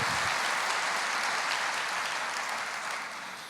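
A church congregation applauds in a dense, steady wash of clapping that fills the space, easing off slightly toward the end, with no voices over it.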